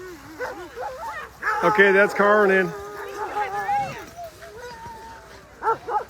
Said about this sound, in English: We got some waggy happy dogs here, huh?